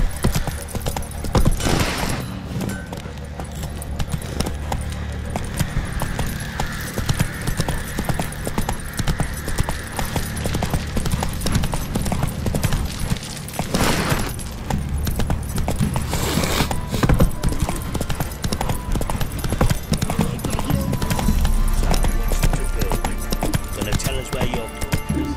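A horse's hooves clip-clop in a steady galloping rhythm in the video game Witcher 3, running throughout with occasional jangling, while a voice speaks over it.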